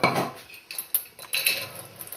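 Sprouted wheat grains tipped into a dish make a few light clinking, scraping taps of dish and utensil, close and fairly faint, in short irregular bursts.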